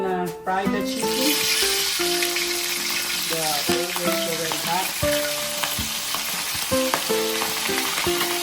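Chicken with mustard sizzling loudly in a pan as it is stirred, a constant frying hiss broken by repeated scraping and clinking strokes, with a voice occasionally heard over it.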